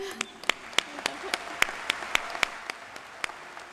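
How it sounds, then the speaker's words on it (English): Graduating students at a university commencement applaud, a thin spread of distant crowd clapping with a series of sharp, close individual claps landing roughly every third of a second. "Students, go ahead, you can clap."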